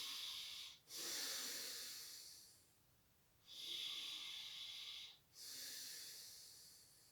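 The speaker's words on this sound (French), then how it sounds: "On inspire par le nez et on expire par le nez." Slow, steady breathing in and out through the nose, close and quiet, with soft airy hisses. Each breath runs a couple of seconds, with brief pauses between breaths, and no one speaks.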